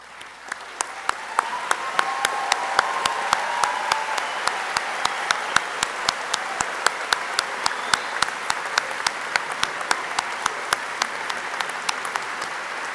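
Graduates at a university graduation ceremony clap for their supporters, filling a large hall with sustained applause from many people, with a few sharp, loud individual claps standing out from the steady roar.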